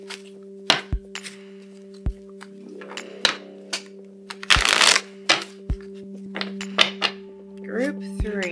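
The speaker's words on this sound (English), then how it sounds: "So let me grab a couple oracle cards here for us." Oracle cards are shuffled and handled close to the microphone, giving irregular soft slaps and riffles with a few sharper taps, over a steady low electrical hum.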